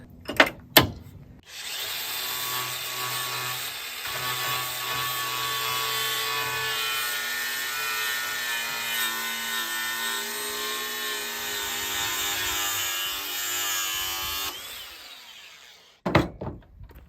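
A chipped chipper knife is ground on a grinder, a steady, loud grinding drone with a metallic whine that holds for about thirteen seconds between brief starting and stopping noises, with no talking.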